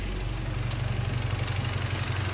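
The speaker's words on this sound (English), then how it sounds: "we've left the car idling for about a minute" A Seat Leon Cupra 280 engine idles with a steady low rumble and a faint rhythmic pulse. It is heard close up and alone, fitted with a turbo blanket on its IS38 turbo.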